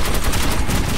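Gunfire in Metro 2033 Redux comes as a dense, unbroken burst of rapid shots, loud and close, all packed into about a second.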